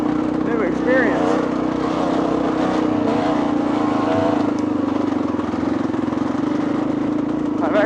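A two-stroke dirt bike engine revs continuously while riding a trail, its buzzing drone steady and close throughout as a rider talks over it.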